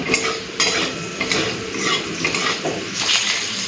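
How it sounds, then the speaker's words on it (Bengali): Potatoes are added to hot oil seasoned with cumin seeds. They hiss and sizzle steadily nearby, with utensil scrapes and stirring clinks on the pan in an uneven rhythm. "একটুখানি জিরে ফোড়ন দিয়ে দিচ্ছি। দিয়ে দিচ্ছি এবার আলুগুলো।"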